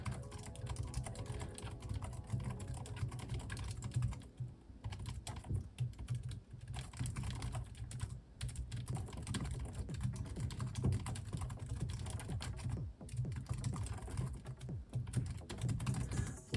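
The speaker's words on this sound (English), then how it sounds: "you know that you're typing on something a little smaller" Steady, rapid typing on the compact keyboard of a Fujitsu Lifebook P1630 laptop, light clicky keystrokes continuing for a long stretch with brief pauses, close and fairly quiet.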